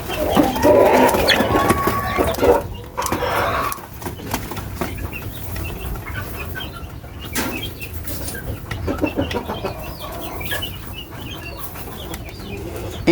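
Young chicks peep in a coop, with faint, scattered high cheeps and clucks over a steady rustling background throughout.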